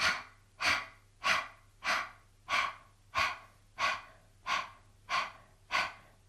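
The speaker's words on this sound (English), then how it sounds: "So take a deep breath in. Exhale, squeeze." Deep breaths during a kegel exercise: ten even, close inhale-exhale cycles in a steady rhythm, soft and airy, with no talking.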